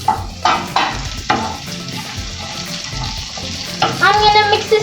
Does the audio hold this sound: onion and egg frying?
yes